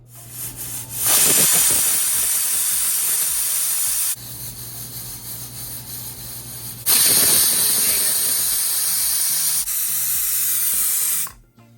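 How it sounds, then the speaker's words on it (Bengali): A pressure cooker cooking mutton curry vents steam in loud, sustained hissing bursts, two long spells broken by a quieter gap, with faint rattling and no voices. "আমি এবার প্রেশার কুকারে ঢাকনাটা লাগিয়ে দিচ্ছি দুটো সিটি পড়বে"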